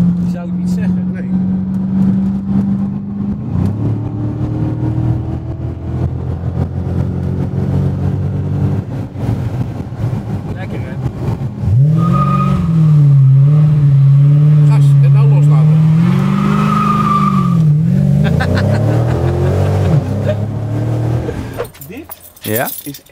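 Supercharged Dodge SRT engine revving hard during a burnout, a loud, sustained, rising and falling roar close by, with people talking over it.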